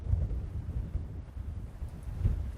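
Low gusty wind rumbles and buffets across the Algodones Sand Dunes in Southern California, a steady blustery roar with a couple of stronger gusts, no voices.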